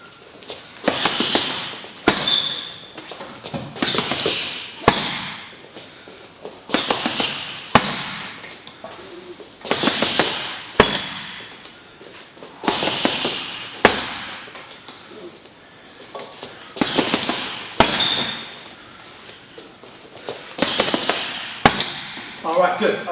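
Punches from a boxing combination drill land on pads in repeated rapid bursts of sharp slaps and thuds, close and loud, with a coach talking between the rounds of strikes.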